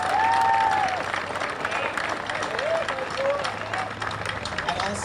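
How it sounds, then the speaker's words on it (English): Audience applause for about fifty wounded veteran riders at an outdoor charity bike ride event in New York, a steady crowd clapping throughout with faint background voices and a few whistles. "so let's give them a round of applause"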